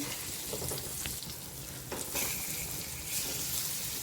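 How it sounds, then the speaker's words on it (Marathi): Surmai (kingfish) fillets shallow fry in oil over a medium flame, giving a steady, close hiss and sizzle with small spits and crackles throughout. "एका साईडने छान खरपूस भाजायला द्यायचे एकदम मीडियम फ्लेम"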